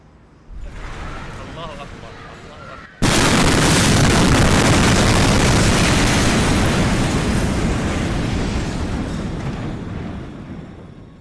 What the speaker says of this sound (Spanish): y de repente ocurrió la explosión.